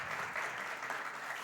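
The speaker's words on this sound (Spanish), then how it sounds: "Hoy un aplauso" Brief audience applause after a presentation at a sports science seminar, a short burst of steady, moderately loud clapping.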